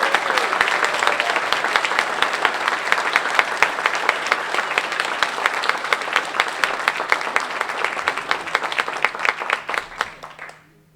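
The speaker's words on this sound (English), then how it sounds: "Let's give them all one more round of applause." Steady sustained applause from an audience at a transportation club awards dinner, dense clapping from many hands at full volume throughout, then tapering off and fading out in the final second.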